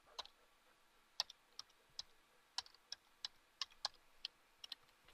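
Scattered keystrokes on a computer keyboard as a folder name is typed, a dozen or so faint, crisp clicks in an uneven rhythm, close by and otherwise quiet.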